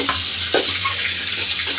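Vegetables, including pointed gourd, fry in hot oil with a steady, loud hiss and crackle, broken by a few soft scraping stirs.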